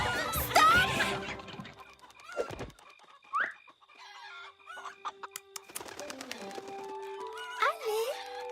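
Cartoon chickens cluck and squawk in scattered bursts amid animated sound effects, with characters talking between the calls.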